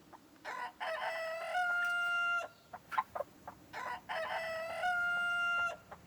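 A rooster crows loudly twice in a row, each long strained call followed by short clucks and scratchy bird noises between them.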